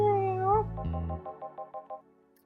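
A cat in the VA-11 Hall-A video game gives a drawn-out meow, then a row of short, evenly spaced chirpy mews that fade out, clear and alone.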